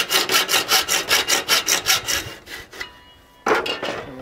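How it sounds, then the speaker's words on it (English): A hacksaw fitted with a metal-cutting blade saws through PVC pipe in quick, even back-and-forth strokes up close, then pauses and gives a final few strokes. "hacksaws are good for cutting PVC pipe using a metal blade"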